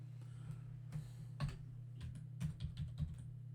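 Typing on a French computer keyboard, a short run of key clicks with several louder strikes, close and fairly quiet over a steady low hum.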